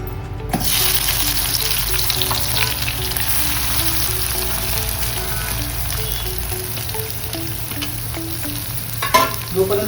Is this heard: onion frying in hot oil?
yes